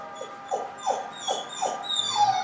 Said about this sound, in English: you hear my dog in the back crying because he wants some, but can't have it